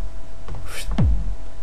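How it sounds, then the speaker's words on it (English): A single deep, booming dubstep kick drum hit with a fast downward pitch drop, heard on its own over a faint background hiss. "Basically I got my kick"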